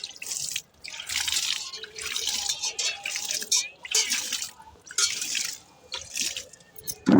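Water poured from a container into a plant pot in a home, a gentle splashing and trickling that runs in uneven bursts with brief pauses, close and moderately loud, with no talking.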